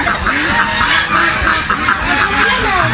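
A flock of farmyard ducks quacks continuously nearby, their calls overlapping in a loud, dense chorus.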